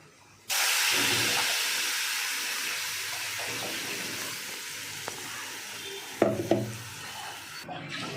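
A paste goes into a hot pan tempered with fennel seeds and asafoetida, and it bursts into a loud sudden sizzle that fades slowly into a steady hiss, broken by a few spoon scrapes and clanks near the end.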